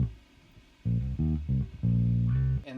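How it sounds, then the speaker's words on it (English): Dry, unprocessed synth bass line from a groove built in Ableton Live, playing alone: a brief quiet lead-in, then loud sustained notes in a repeating pattern of several changing pitches. "On its own, without any processing, completely dry, it sounds like this."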